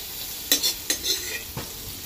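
Whole pointed gourds (potol) fry lightly in oil, giving a bright, steady sizzle close by, punctuated by four or five brief scraping stirs of a spatula in the pan.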